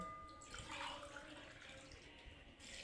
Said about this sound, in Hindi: अब हम इसमें कम से कम 3 गिलास पानी डालेंगे।